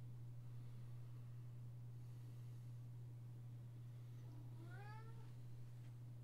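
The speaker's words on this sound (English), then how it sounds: "You guys hear that cat?" A cat meows once, loudly, with a rising and falling cry near the end, after several seconds of a steady low electrical hum and faint background hiss.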